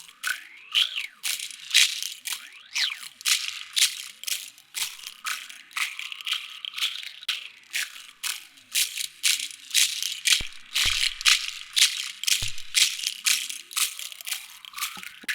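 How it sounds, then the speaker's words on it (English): Shakers run through a WMD Orion Eurorack phaser module, a fast steady rattling pulse with sweeping, whooshing phaser swirls moving through it, loud and continuous throughout. "This is just some shakers."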